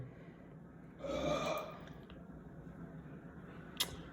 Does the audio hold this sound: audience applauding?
no